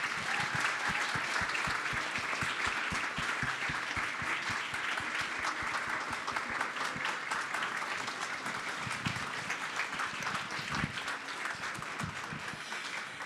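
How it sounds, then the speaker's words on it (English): Sustained audience applause for students at a college spring convocation: steady, thick clapping from a large crowd, lasting throughout at a moderate, even level. "just another round of applause for our students today"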